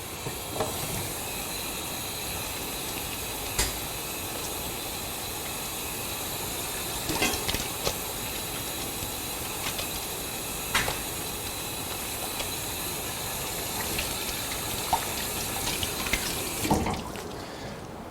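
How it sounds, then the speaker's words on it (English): Water running steadily from a tap into a sink while hands are washed in a butchery class setting, a constant close hiss with occasional small knocks and splashes, no speech. "So again, I'm just going to wash up."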